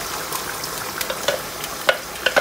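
Tomatoes going into a frying pan for boneless tandoori masala chicken bring a bright, crackling sizzle with scattered sharp pops and spits, close and fairly loud, with no talking.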